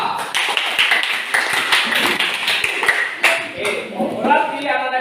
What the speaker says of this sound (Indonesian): Oke, tepuk tangan dulu. Tepuk tangan ke kelompok 2.